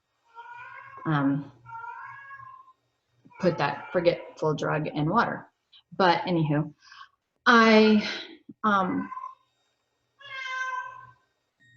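A pet cat meows insistently indoors, several drawn-out cries scattered between bursts of a person talking nearby.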